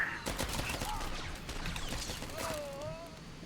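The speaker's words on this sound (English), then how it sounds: "He just runs in with his pistol. Pop, pop, pop, pop, pop." Rapid pistol shots from a sniper character in the Star Wars: The Old Republic game sound as a quick string of crisp pops amid a busy combat mix, with a faint tonal whine drifting over the top.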